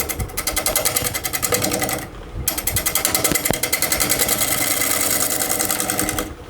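A wood lathe turns a crotch wood platter at roughly 250 RPM while a tool takes light cuts. The rapid, rhythmic chattering whir stays loud and close, with two brief pauses, and no voices are heard.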